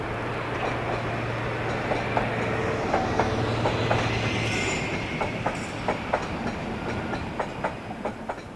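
A cross-country HST diesel train, the 0821 Paignton to Newcastle service, passes a junction near a postal depot with steady rail rumble, a low engine tone and rhythmic clickety-clack wheel beats across the tracks, loud and continuous throughout.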